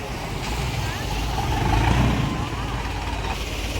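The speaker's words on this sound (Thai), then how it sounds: "ให้ฟังเสียงเรือให้ฟังเสียงเรือ" A boat engine rumbles steadily as it passes along a canal, a low droning roar swelling toward the middle and easing off, with no other sounds over it.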